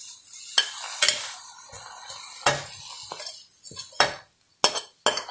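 Spoon stirring cooked rice with curry leaves and coriander in a metal pot for curd rice, close scraping and soft scooping broken by several sharp clinks of utensil on the vessel's rim, irregular and quiet with no talk.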